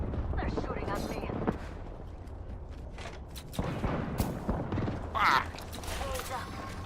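Gunfire in a video game, with bursts of shots and booming impacts spread across the clip over a steady rumbling background, while a voice talks throughout.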